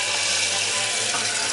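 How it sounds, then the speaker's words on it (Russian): Water pours steadily into a pot in a kitchen, a dense continuous splashing rush with no pauses. It is close and alone, with no talking. "Наливаю водичку."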